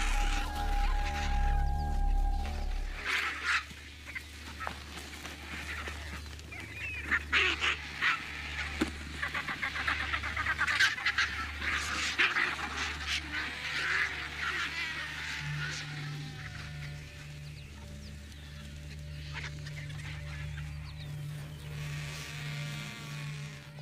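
A large flock of waterbirds on the Serengeti, ducks and geese honking and quacking continuously in a dense, noisy chorus, with a deep rumble underneath at the start.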